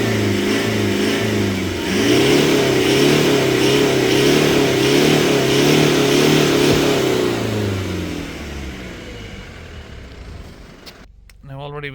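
A Toyota Land Cruiser diesel engine runs during DPF regeneration, held at high revs with a steady droning tone, then winding down toward idle near the end with a brief voice at the close.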